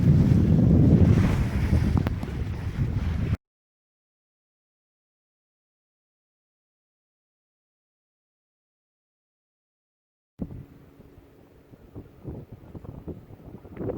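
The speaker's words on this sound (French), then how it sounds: "Il y a plus de vent que prévu." Loud wind rumbles and gusts against the microphone aboard a sailboat at sea in winter with surging water, cutting to silence for several seconds, then returning as softer sloshing and wind.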